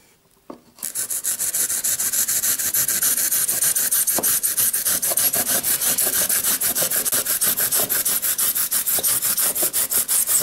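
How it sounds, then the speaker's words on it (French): A fine saw rasps steadily through polystyrene foam in fast, even back-and-forth strokes, loud and close, starting after a brief quiet moment. "c'est parti avec la scie fine"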